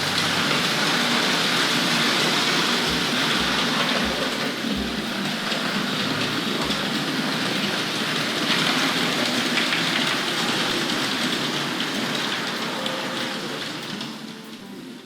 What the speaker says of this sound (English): Making a reassuring sound on the rails.